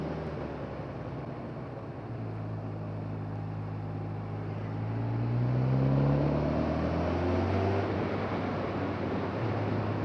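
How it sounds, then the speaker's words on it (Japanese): A 2018 Honda CB1000R motorcycle engine idling along at low revs around 3000 rpm while coasting down a mountain road, a smooth steady hum with a gentle pitch rise and fall, mixed with wind rush. "こういった状態でのこのモデルのエンジンですが、やはりホンダ車らしくスムーズですね"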